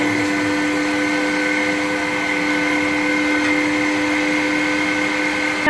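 An electric meat grinder runs at home grinding beef chuck, a steady, loud motor whine that holds unbroken throughout with no voices.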